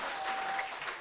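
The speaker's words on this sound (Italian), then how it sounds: "Patrizio De Mattio, un applauso!" Audience applause at a school video-cinema competition award ceremony in Pordenone, a brief burst of steady clapping from a room full of people.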